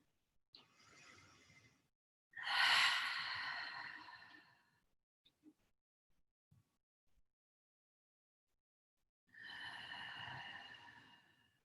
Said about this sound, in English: deep breathing. Inhale through the nose and exhale,